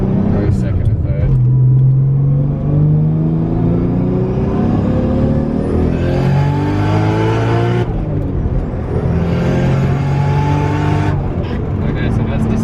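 A VW MK6 Golf GTI accelerates hard through the gears, its engine note climbing in two long rising sweeps with a shift break between them, loud and close with a steady rumble underneath.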